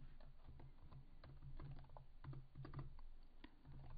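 Code typed on a computer keyboard, steady close-up keystroke clicks in uneven runs, with a couple of denser flurries and brief gaps.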